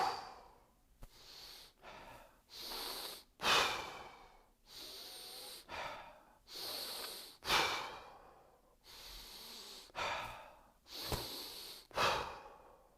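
Heavy, deliberate breaths during exercise repetitions, each strong inhale and exhale loud and close, repeating in a steady rhythm with short pauses between them and no talking.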